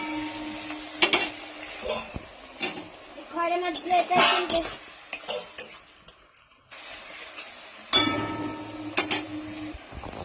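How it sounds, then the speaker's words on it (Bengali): Onions fried in a pan for a katla fish curry with ridge gourd and potato, stirred with a utensil: soft sizzling under scraping and clinking strokes, with a brief quiet gap midway, and a voice talking at points. "এবার আমি পেঁয়াজগুলোকে নেড়ে চেড়ে অনেকটা নরম করে নেব"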